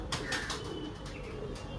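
A good-quality female pigeon coos close by in brief soft bursts over a steady background hum, with no talking.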